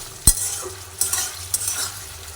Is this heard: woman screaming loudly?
no